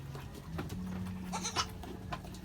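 A goat on a backyard farm, where a purebred Anglo Nubian buck is kept, gives a brief wavering bleat, moderately near, over a faint hum and scattered clatter.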